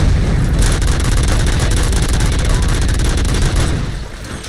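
Sustained loud automatic gunfire in RoboCop Rogue City, a dense rapid burst of shots lasting about four seconds before easing off, close and dominant.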